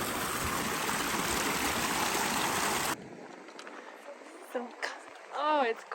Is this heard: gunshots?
no